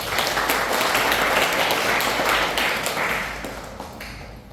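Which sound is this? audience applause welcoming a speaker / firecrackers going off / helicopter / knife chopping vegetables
audience applause welcoming a speaker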